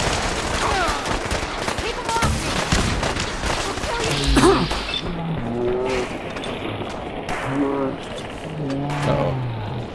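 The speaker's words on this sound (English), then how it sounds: "the quick hands with this missile launcher is nice" Gunfire and explosive blasts from a missile launcher ring out in the Fallout 4 game world, a loud busy burst of shots and impacts with a voice talking over parts of it.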